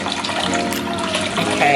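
A konjac facial sponge is wetted under a running tap, giving a loud, steady splash of water close by. A voice may be faintly present beneath it.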